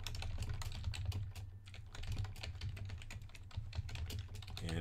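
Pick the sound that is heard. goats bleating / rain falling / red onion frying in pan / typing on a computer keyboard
typing on a computer keyboard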